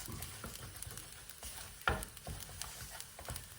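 Rice is stirred in a hot pan: a quiet, soft sizzle runs under repeated scraping and stirring strokes, with one sharper clack partway through.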